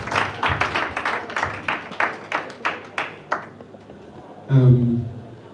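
Audience at a business sensitization program in Port Harcourt claps in a steady rhythm of sharp, evenly spaced beats for about three seconds, then falls quiet before a brief voice.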